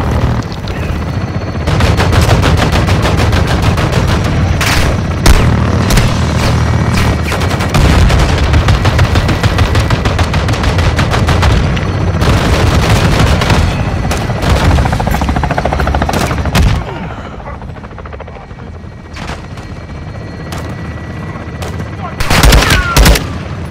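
A gun run in Call of Duty Modern Warfare II: loud, dense automatic gunfire with heavy explosions, rolling almost continuously before thinning to scattered shots and a final burst, with voices at times.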